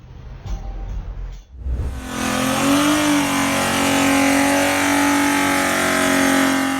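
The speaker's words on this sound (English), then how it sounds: "Dude really thought he was doing a burnout. He just blew his transmission." Ferrari supercar engine roaring loud and sustained as it revs hard during an attempted burnout, following a short burst of muffled engine noise and a brief drop.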